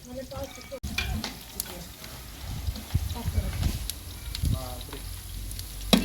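Onion paste and curry leaves fry in a pan with a crackling sizzle and repeated stirring scrapes, while people talk quietly nearby.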